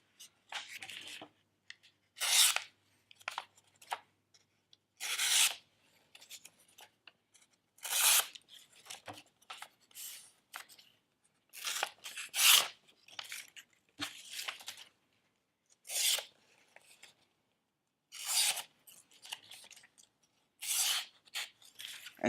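A sharp Schrade SCH502 knife slices through sheets of paper in a series of quick, crisp, rasping cuts, each stroke a short bright swipe separated by brief pauses, close up and with no talking.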